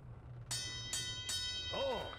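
An explosion warning signal in the video game Deponia: three evenly spaced bell-like chimes over a low hum, followed by a rising and falling electronic whoop.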